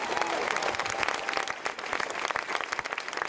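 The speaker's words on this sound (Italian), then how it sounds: "vi chiedo un applauso per lui" Loud, sustained applause and clapping from an audience at an outdoor political rally in Civitavecchia, a dense crowd clapping continuously without a break.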